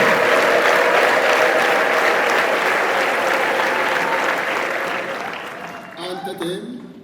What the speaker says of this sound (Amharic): በደንብ አጨብጭቡና አመስግኑት ጌታን።